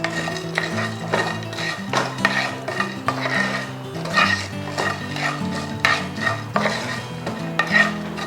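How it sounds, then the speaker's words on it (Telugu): Whole spices for mutton haleem being lightly dry-fried in a pot, with rhythmic clinks and scrapes of a metal spoon against the vessel over a faint sizzle. "ఇవి లైట్గా వేపుకోవాలి."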